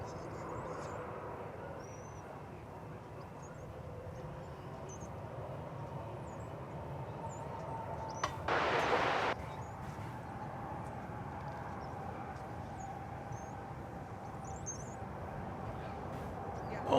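An American Airlines jet takes off at DFW Airport as a steady, broad engine roar held at an even level, with a short louder surge partway through and faint radio voices underneath.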